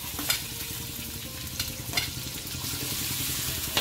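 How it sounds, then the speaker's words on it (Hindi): Onion fries in oil in a kadhai with a continuous close sizzle, broken by a few sharp scraping strokes of a ladle stirring the pan, no voices. "अब इसमें सबसे पहले प्याज डालकर"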